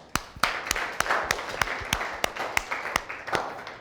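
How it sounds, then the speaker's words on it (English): A small group claps in a training-session room, a scattered run of sharp, distinct claps at an uneven rhythm over a few seconds, fairly close and moderately loud. "Let's give him a clap"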